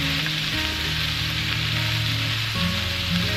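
Minced onions hitting a hot frying pan for cabbage and potatoes, a steady, even sizzle heard up close without any talking.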